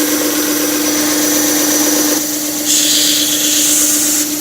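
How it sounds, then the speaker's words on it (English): A power sander works the edges of a wood piece, giving a steady, loud motor whine with a constant hum. The tone shifts and brightens partway through as the sander bites into the wood. "I'm into the sander."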